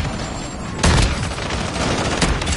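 Shotgun blasts in a video game: one heavy close shot followed by a few more scattered reports over a busy, noisy background of game action.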